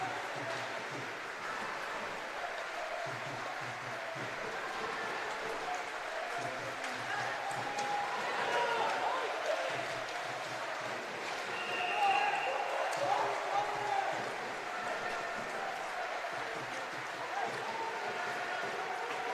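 An ice hockey arena crowd on its feet applauds in a sustained, distant patter, while a commentator talks over it.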